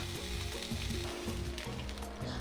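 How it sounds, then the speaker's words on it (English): Steady crackling sizzle of a duck roasting over a charcoal stove, dense and close, with faint rhythmic low thumps underneath and no talking. "I press the duck over the charcoal stove"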